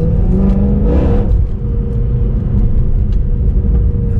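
Mercedes C63 Black Series engine revving hard, a loud, close, deep rumbling roar with a brief rising rev near the start, then a steady heavy drone.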